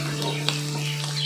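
Shrimp heads frying in hot oil with elephant foot yam and potato, a close, brief sizzle with stirring scrapes over a steady low hum.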